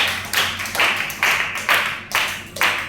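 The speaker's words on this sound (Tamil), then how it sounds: "கை தட்டுங்க" An audience at a school science speech claps in six distinct rhythmic bursts, evenly spaced and fairly loud, with no talking over it.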